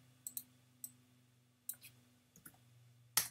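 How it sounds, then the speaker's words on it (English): A computer keyboard gives a few sharp, separate key clicks at an uneven pace in a quiet room with a faint steady hum, ending on a louder press of the Enter key. "Click enter, and it does it precisely"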